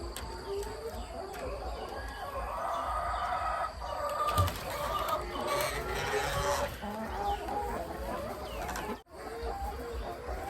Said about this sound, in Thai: ไก่คอกนี้เลี้ยงไว้ 26 ตัวนะคะ